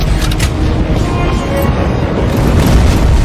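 A rocket explosion in the video game Terminator Resistance: a loud, sustained booming rumble fills the whole stretch, dense and heavy, with no clear separate voices.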